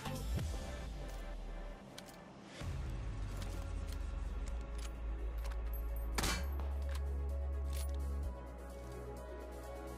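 Gunfire in the PUBG Mobile battle royale game, a few sharp shots and impacts spaced out over low game ambience and a steady hum, heard without talk.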